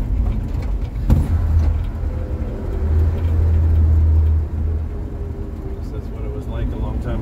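A 1949 International KB2 truck drives along a road, its engine giving a steady low rumble with a louder surge midway, heard from inside the cab.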